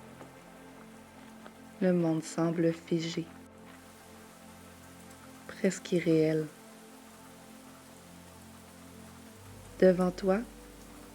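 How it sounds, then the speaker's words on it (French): Fine rain patters softly and evenly by a dark lake near a wooden dock at a Finnish spa, a constant faint hiss beneath a calm voice speaking in short phrases. "Sous la pluie fine"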